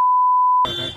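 A single sustained censorship beep, a pure steady tone lasting over half a second, masks a swear word before an abrupt cut to noisy background.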